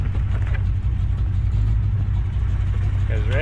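An old, rusty Corvette runs steadily close by with a loud, continuous low engine rumble, a faint whine rising near the end.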